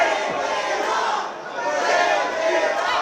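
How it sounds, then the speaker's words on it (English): A wrestling crowd at a PSL Game of War 2024 show in Florida chants in unison for a wrestler to shave off his mustache, a loud, steady roar of many voices that dips slightly midway and swells back. "The crowd chanting, shave it off"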